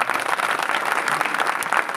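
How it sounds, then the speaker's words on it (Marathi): A kirtan audience at Digras bursts into loud, sustained applause, with dense clapping filling the full two seconds and no pause. "एकदा जोरदार आमच्या यजमानासाठी टाळी वाजवा"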